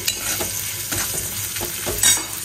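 Lentils frying and being stirred with spices in a pan, a loud close sizzle with repeated scraping stirs every half second or so, no voices.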